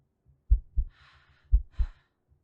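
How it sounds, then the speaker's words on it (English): A game heartbeat effect thumps in two lub-dub pairs about a second apart, deep and close, with a faint airy whoosh after each beat against near silence. "I can hear her heartbeat here"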